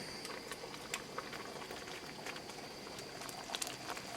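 Liquid simmering and bubbling in a covered pot for malai paneer gravy on a gas stove, a steady low bubbling hiss with small pops throughout, no talking.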